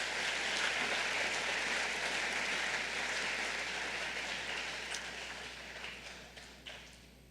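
Applause from a school assembly audience after students read letters at an Every 15 Minutes program, a broad steady wash of clapping that slowly thins and fades toward the end.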